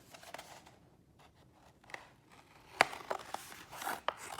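Scissors snip through poster board in a few sharp, close cuts, faint rustling at first, then crisp clicks and crunches growing louder toward the end.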